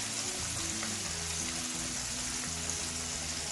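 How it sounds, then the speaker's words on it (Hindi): A whole chicken deep-frying in hot oil gives a dense, steady crackling sizzle, close and continuous with no pauses and no voices. "ऑयल बिल्कुल गर्म हो चुका है और चिकन को ऑयल के अंदर ऐड करेंगे फ्राई करने के लिए।"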